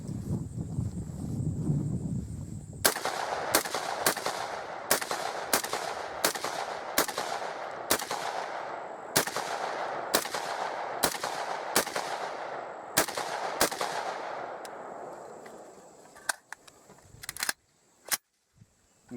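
Bushmaster ACR rifle fired outdoors in a steady string of about fifteen loud, sharp shots at roughly one-second intervals, each with a trailing echo, followed by a few scattered quieter clicks.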